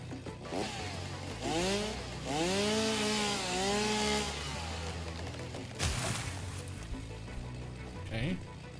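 A video game chainsaw cutting wood, its engine whining and rising in repeated revving sweeps, loud and close, with a voice talking over parts of it.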